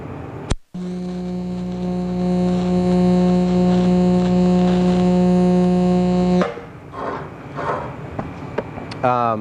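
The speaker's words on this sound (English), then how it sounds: "I'm just going to weld my corners so that way things aren't going to shift around on me" Welding the corners of a Damascus steel billet produces a steady electric buzzing hum for about six seconds, then cuts off, leaving faint clinks and shop noise.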